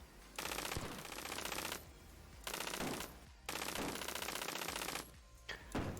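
A machine gun in a Ludum Dare 46 game fires in rapid, rattling bursts, three long volleys and a short final one separated by brief pauses, loud and close.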